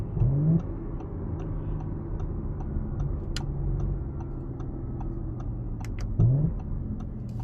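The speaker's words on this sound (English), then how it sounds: "You can also get some nice pops out of the exhaust too when you downshift." A 2023 Audi S5 Coupe engine idles with a low rumble, and a few sharp exhaust pops on downshift stand out, two louder bursts near the start and end, with faint ticking throughout.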